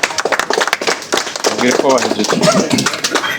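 Audience applause following a speech by the Russian ambassador at a bilateral-relations event, scattered claps building into a steady round, with voices murmuring underneath.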